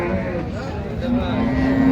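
Cattle low in a steady drawn-out moo at a cow and calf market, close and fairly loud, with voices of the busy crowd murmuring beneath.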